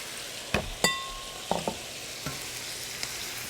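Chili beef and onions frying in a pan, with a soft steady sizzle under a few sharp clinks and scrapes of a utensil against the pan.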